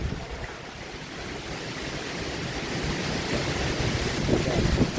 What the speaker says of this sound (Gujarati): કેટલો અવાજ આવે પવન